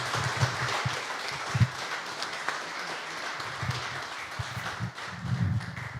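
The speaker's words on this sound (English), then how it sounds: "Please applause." A panel audience at a water polo event in Korcula gives applause, a moderate-sized room of steady clapping with a few louder low thumps, fading slightly toward the end.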